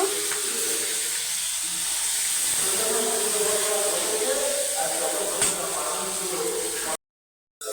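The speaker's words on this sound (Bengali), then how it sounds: "কড়াইতে তেল দিয়ে চিংড়ি মাছ দিয়ে আলু দিয়ে তরকারি করবো চিংড়ি মাছটা ভেজে নেব" Loud, steady sizzling of prawns frying in hot oil in a kadai, a dense crackling hiss close by, cutting abruptly to silence near the end.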